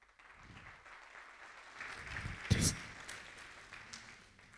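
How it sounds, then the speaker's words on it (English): Audience applause at a cyber security conference session after a presentation, a short burst of clapping that swells and fades within a few seconds, mixed with some talk. "Can I get a big hand of applause, please, once again, to Dr. Safaa?"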